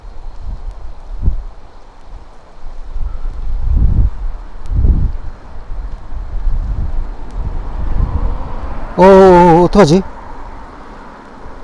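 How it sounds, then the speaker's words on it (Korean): Strong gusts buffet a hovering drone above a cliff at Baekcheon Valley, Daehyeon-ri, coming as repeated low roaring bursts of wind noise; someone speaks briefly near the end. "이 바람이 너무 불어가지고"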